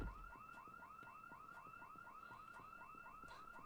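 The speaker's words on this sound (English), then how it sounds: "I can hear an alarm going off" A car alarm set off by a zombie in Project Zomboid whoops in a fast, even cycle of rising tones, faint and distant but continuous throughout.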